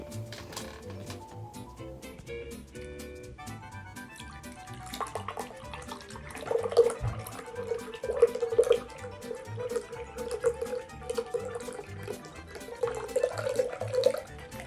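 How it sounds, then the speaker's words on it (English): Water pours into a plant container, a quiet trickle that swells into a steadier splashing stream in the second half. Nobody speaks over it. "that was a nice, refreshing sound of cool, crisp, refreshing water"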